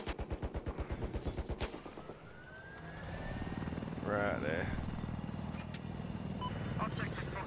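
Helicopter in the Battlefield 4 video game, its rotor chop pulsing rapidly at first, then giving way to a steady engine whine under bursts of gunfire and a brief swooping effect, with game noise throughout.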